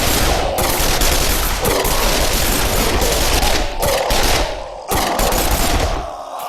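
Sustained, dense gunfire from shotgun-wielding enemies in the tactical video game Breach & Clear: Deadline, loud bursts running almost continuously with a few brief gaps.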